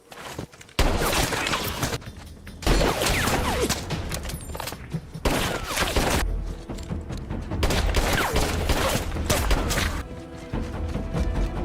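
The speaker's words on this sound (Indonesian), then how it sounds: "Tiba-tiba dia berusaha menembak Brandon dan kembali kabur." Rapid gunfire fills a film action scene, with dense bursts of shots and crashing impacts that continue almost without pause and loud throughout.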